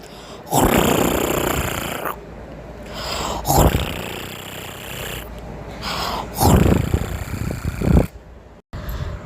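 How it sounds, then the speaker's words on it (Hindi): A cartoon man snores while sleeping, long loud rasping inhales repeating in a slow steady rhythm, each followed by a softer exhale. "या फिर आराम कर कर के थक जाते तो फिर खर्राटे मारकर सोते थे।"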